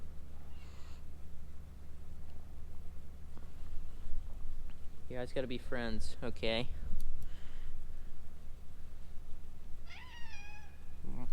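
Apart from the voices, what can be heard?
cat meowing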